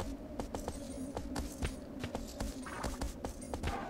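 Horse hooves clip-clopping at a steady walking rhythm in the Shadow of the Colossus video game, a run of crisp, evenly spaced hoof strikes heard close by over a low ambient hum.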